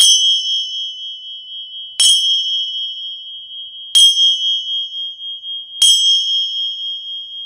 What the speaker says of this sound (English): With every bell, relax yourself, relax your mind